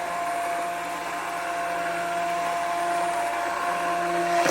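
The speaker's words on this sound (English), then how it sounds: "So our daughters bought me this new immersion blender, I think for my birthday this year." An immersion blender whirs steadily through tomato soup, a constant loud motor drone with a faint tonal hum, running alone without a break and rising slightly right at the end.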